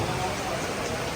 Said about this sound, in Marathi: पाऊस खूपच इलो हो मग